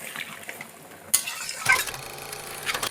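Rohu fish curry in a pan being stirred after water is added, with a steady sizzle and bubbling, a sharp spoon knock against the pan midway and louder scraping stirs after, close-up with no talking.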